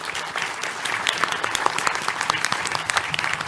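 Live crowd at a PAX West 2023 podcast panel breaking into applause, a brisk, continuous patter of many hands clapping close and loud throughout.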